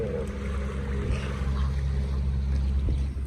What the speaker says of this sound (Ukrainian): Поплив катерок. Прогулочний.